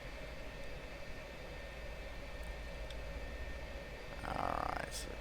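An F-4E Phantom II engine spools up during an airflow start in a flight simulator: a steady whine and hum with a tonal rise and a louder whoosh near the end.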